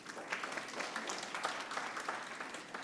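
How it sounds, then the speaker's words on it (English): Applause for a presenter at a virtual global symposium on service learning, a steady patter of clapping from a modest audience, moderately loud and unbroken for a few seconds, with no voices over it. "Riviero a round of applause."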